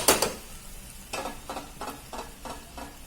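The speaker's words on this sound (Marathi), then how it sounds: "हे बघा याच्यात आपण तांदूळ घालणार आहोत." Washed rice tipped into a hot chicken biryani pot, a brief rush at first, then a run of rhythmic scraping, sizzling stirs close by, with no talk.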